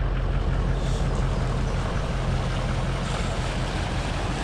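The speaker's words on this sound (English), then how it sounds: "Here's that creek below my place. It's normally got a few inches of water in it." Storm-swollen creek rushing continuously with a broad, steady roar of water, fairly loud and unbroken throughout.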